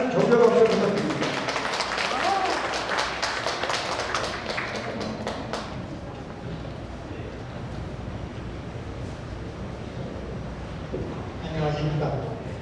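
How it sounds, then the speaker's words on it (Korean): An audience claps at a meeting for a board candidate's speech, a dense burst of applause that fades out after several seconds, leaving quieter room sound with a voice. "많은 격려 박수 부탁드립니다"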